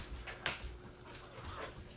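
A dog, one of two in a house, gives soft whimpers and breathy whines in short bursts, close and fairly quiet.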